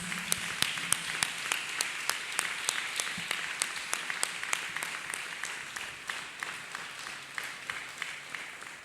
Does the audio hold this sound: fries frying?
no